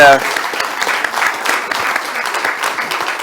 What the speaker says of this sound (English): So I want you to give a big round of applause to Kelly, Anna, Patricia, and Tendai.